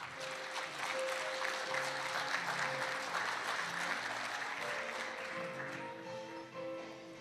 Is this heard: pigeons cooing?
no